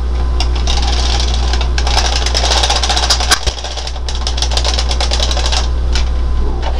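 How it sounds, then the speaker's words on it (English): A domestic knitting machine carriage is pushed across the needle bed to knit a row of a sock, giving a loud, steady rattling clatter with a dense run of mechanical clicks and a brief knock partway through. "so I'm just gonna knit the row"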